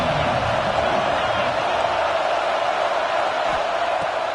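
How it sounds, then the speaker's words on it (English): A stadium crowd in the NCAA College Football 25 video game gives off a steady, broad roar that holds at an even level throughout, with no distinct cheers rising out of it. "This crowd ready to make its presence known."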